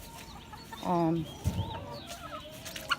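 Backyard chickens clucking near a barn, a few short nasal clucks and a brief squawk at close range, with a voice and some shuffling movement around them.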